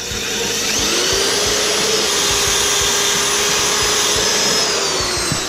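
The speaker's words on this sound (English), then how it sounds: "Start by taking your wire brush and begin to work the rust away off of the surface." A power wire wheel brush grinds rust off a truck's metal surface, a loud, steady abrasive whine with rough scraping texture running continuously and up close.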